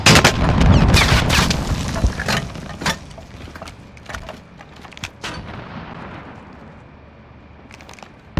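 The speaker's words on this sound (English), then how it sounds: "Rocket away!" A rocket fired in Call of Duty Warzone, then a heavy blast and a burst of gunfire, loud and dense at first, followed by scattered sharp cracks that taper off into quieter battlefield rumble.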